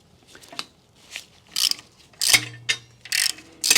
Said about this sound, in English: Next is we loosen the top fork pinch bolt.